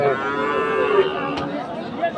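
A Friesian heifer moos at a cattle market in one long, loud, drawn-out call lasting the whole moment, with faint market bustle behind it.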